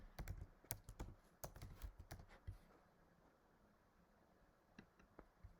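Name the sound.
typing password on computer keyboard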